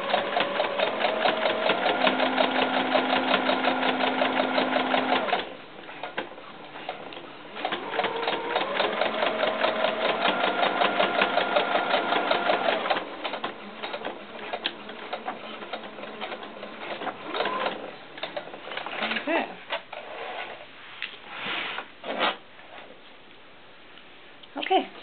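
A sewing machine runs in rapid bursts while stitching the side seams of a floral doll skirt, loud and near, with pauses between runs and a person talking during the quieter stretches.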